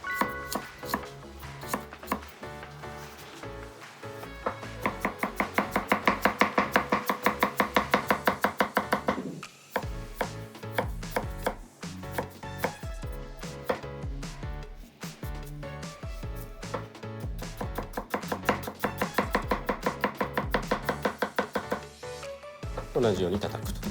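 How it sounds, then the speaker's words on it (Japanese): A knife finely mincing garlic and ginger on a cutting board with rapid, steady chopping strokes, heard close and loud over light background music. "でニンニク、生姜も同じようにみじん切りにしていきます。"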